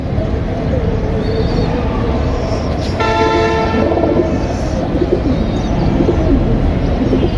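Pigeons coo in a low, soft rhythm amid a noisy crowd and a brief mechanical whine, with people chattering nearby.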